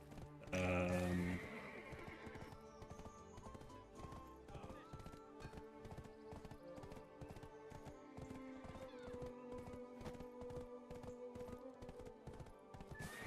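Level 30 horse in the online game Black Desert Online, a loud whinny at the start followed by a steady rhythmic clip-clop of hooves trotting on and on over background game music.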